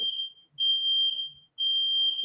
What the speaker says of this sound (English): The smoke detector's going off.